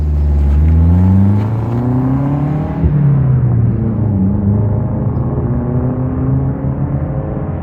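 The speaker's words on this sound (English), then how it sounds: "This is my 1988 Saab 900 Turbo" A 1988 Saab 900 Turbo engine runs close and loud, revving up and easing back with rising and falling tones, then settling into a steady hum.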